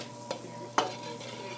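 Butter melting in a pot for sopas, a soft continuous sizzle with a couple of sharp utensil taps against the pot, close and fairly quiet.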